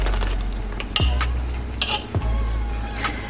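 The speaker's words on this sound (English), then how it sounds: "And now I'm going to mix this around." Cream cheese being stirred into a marinara sauce with ground beef and spicy smoked sausage, a steady close sizzle under wet, sloshing strokes and a few clacks of a utensil against the pan.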